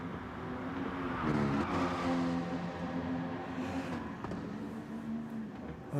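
Race cars lapping Mount Panorama in a racing video game, engines droning loudly with shifting pitch as several cars run close together, continuous throughout with no talk.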